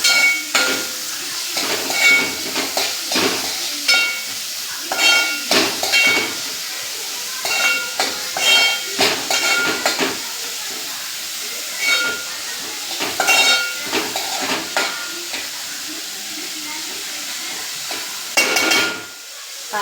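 Two finely chopped onions frying in a pan for bhendi masala give a steady sizzling hiss, broken by repeated scraping clatters as a spoon stirs them.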